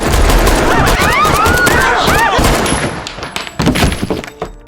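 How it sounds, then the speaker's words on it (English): A loud, dense burst of rapid gunfire rattles through the first few seconds, with a high whine overhead, then fades into scattered shots and echoes. "The gunfire brought the entire bar to a sudden silence."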